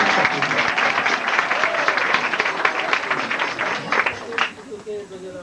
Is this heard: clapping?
yes